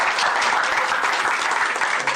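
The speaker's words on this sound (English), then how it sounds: "Give her a round of applause." An audience at a community mental health event claps together, giving a sustained, even burst of applause that stays loud and dense for about two seconds with no voices over it.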